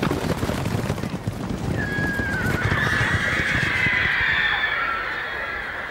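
A horse on a racetrack whinnies in a long, rising-then-falling neigh over a steady, dense crowd roar, with hoofbeats and commotion underneath.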